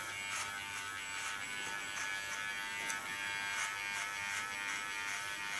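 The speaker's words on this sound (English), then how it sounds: "Holding my clipper in an angle, so leaning on the under part of the clipper blade." Electric hair clipper cutting hair, a steady close buzz with small repeated bursts as the blade passes through, no voices over it.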